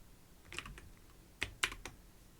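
Quick taps on a phone screen keyboard, a few sharp clicks spaced across a couple of seconds with brief bursts close together, fairly faint and close, no talking over them.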